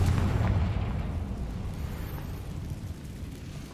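A heavy Confringo blasting-spell explosion in the Hogwarts Legacy game booms loudly up front, then rumbles and fades into a long, crackling decay without any speech.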